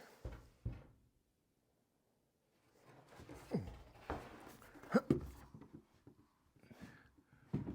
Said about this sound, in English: Let's see if we can get this door to work.